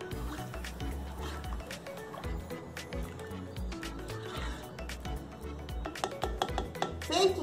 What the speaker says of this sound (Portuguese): Aí você mistura bem.